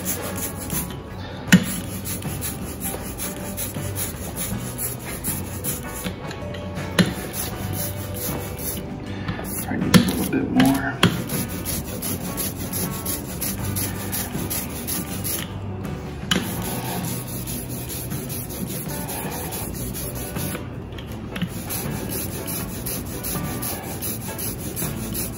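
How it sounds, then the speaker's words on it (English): Ink roller spreading printmaking ink on a surface, a long continuous soft squishy rubbing with repeated strokes, fairly close, with faint background noise throughout. "So now I'm gonna take my roller. I'm going to spread the ink out."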